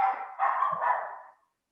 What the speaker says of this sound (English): I'm so sorry about the dog in the background.